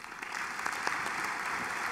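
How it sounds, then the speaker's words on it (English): Audience applause for a keynote speaker at a talk on soft robotics and data analytics, a steady, dense wash of clapping from a crowd that holds even throughout. "please give a round of applause for Julian Jagtenberg"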